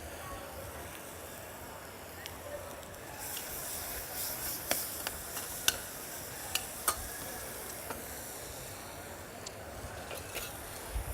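Grit cakes sautéing in a pan, a soft steady sizzle with scattered sharp pops and crackles, faint and close, with a little background murmur.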